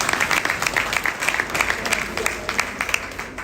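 Audience applause at a high school graduation ceremony, steady dense clapping from a large crowd filling the hall for a few seconds.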